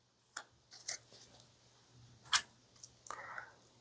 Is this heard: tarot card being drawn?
yes